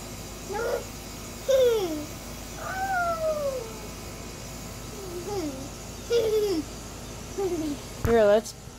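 A cat meows repeatedly with drawn-out, rising and falling cries, about seven calls spread across the clip, close by, with light background noise between them.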